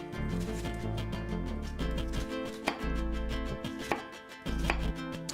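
A knife dices an onion on a cutting board with a quick, steady run of sharp chops close by, each cut landing crisply, with no talking.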